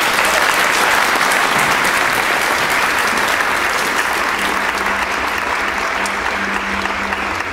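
A venue audience gives sustained, loud applause for community members and artists at a Dublin cultural event, the clapping dense and even throughout.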